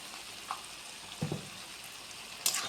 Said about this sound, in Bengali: ভালো করে মশলাটা ভাজি করে নেব।